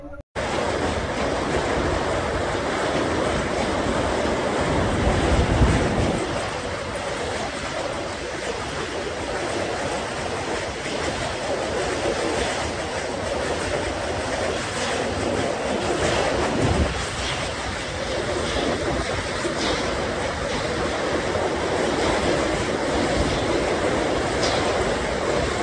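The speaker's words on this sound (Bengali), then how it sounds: "আমাদের ট্রেন ছেড়ে ভুবনেশ্বর, পরবর্তী স্টেশন কটক জংশন। ভুবনেশ্বর আর কটক জংশনের মধ্যে আমাদের এই ট্রেন নন স্টপ চলবে।" The Dhauli Express runs nonstop between Bhubaneswar and Cuttack, with a loud, continuous roar of wind and running noise heard from on board throughout.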